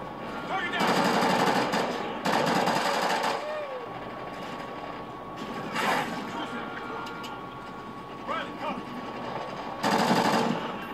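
Bursts of automatic gunfire from the Call of Duty Ghosts campaign, several loud sustained volleys of rapid shots separated by quieter battle ambience, with a voice briefly speaking in between.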